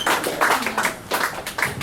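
Audience at a book release reading applauding, a short patter of claps in uneven pulses, fairly close and moderately loud.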